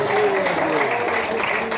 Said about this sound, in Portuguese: Podem voltar as suas palmas.